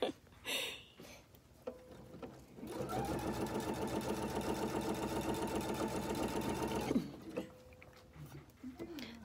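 A home sewing machine stitches a French seam on home-decor fabric in one steady, fairly loud run of several seconds, with handling noises and brief talk before and after.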